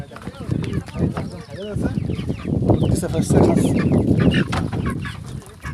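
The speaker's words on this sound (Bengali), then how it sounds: "আজকে দেখাবো আপনাদের ব্রয়লার মুরগি একদম ব্রয়লার মুরগি সাইডে পালন করতেছে" Broiler chickens raised in an open farm setting cluck and chatter continuously, close by, while someone talks over the flock.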